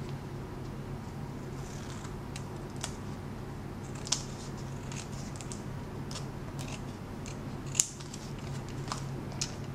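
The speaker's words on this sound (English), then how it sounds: "Trimming it down both sides." Scissors trim decorative Fab Scraps paper wrapped around a flowerpot-shaped card, cutting down both sides: a few quiet, sparse snips and clicks over a steady low room hum.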